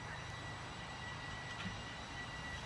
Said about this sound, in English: Here we go, a little toy fan, or like a propeller